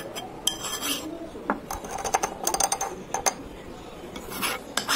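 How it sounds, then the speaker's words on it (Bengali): Spoon scraping and clinking as chili pickle is packed into an empty jar, a run of close, rasping metal-on-glass scrapes and taps in irregular bursts, no talk. "ঠান্ডা হওয়ার পরে একটি খালি বয়মে চামচ দিয়ে এভাবে ভরে ভরে ফেলছি আচার"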